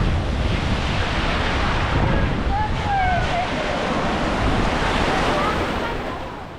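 Rough sea waves breaking on the beach at Baia dei Turchi near Otranto, a loud continuous roar of surf with heavy wind buffeting the microphone throughout, easing slightly at the end.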